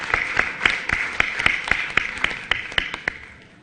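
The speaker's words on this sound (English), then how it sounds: "Let's give the parents a round of applause." Sparse, evenly spaced claps at a school board meeting honoring parents, a thin, regular patter from only a few hands that fades out after a few seconds.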